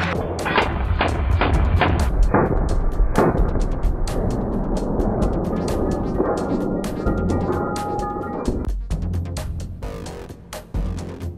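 Armored personnel carriers fire rapid bursts of gunshots during special forces training, with sharp loud cracks repeating densely over a continuous rumbling engine roar, with no speech.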